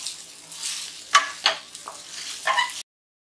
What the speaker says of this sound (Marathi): आता आपण गॅस कमी ठेवलाय आणि साबुदाणा टाकूया. याला छान आपण मिक्स करायचं.